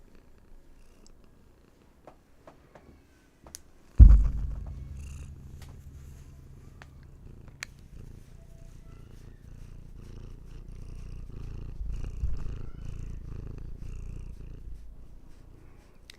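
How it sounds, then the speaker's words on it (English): Hattie the cat purring, a low steady rumble that starts abruptly after a faint bump and carries on close and continuous, slowly swelling, with no talk. "Some Hattie purrs for you."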